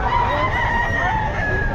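Gamefowl rooster crowing at a busy pet market, a loud, sustained call with bright tonal harmonics over a steady noisy background.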